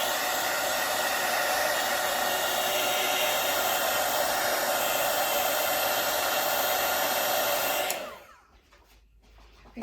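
A heat gun or hair dryer blows steadily and loudly across an acrylic pour painting for about eight seconds, then cuts off, leaving near silence.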